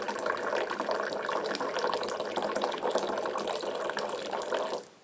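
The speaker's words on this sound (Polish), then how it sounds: "Zaczynamy lać z niska i podnosimy wysoko." Moroccan mint tea poured in a steady stream into a glass, the spout lifted from low to high, a continuous close liquid splash that runs evenly and then cuts off near the end.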